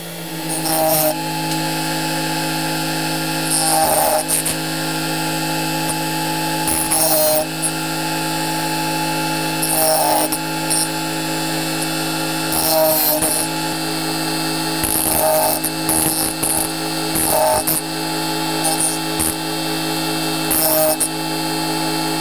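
A Tigers Teeth sharpener works a reciprocating saw blade with a steady, close mechanical grinding hum, broken by brief scraping bursts every couple of seconds, with no talk over it.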